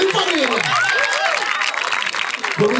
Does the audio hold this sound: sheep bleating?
no